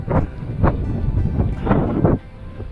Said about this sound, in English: I think it's mainly down to this wind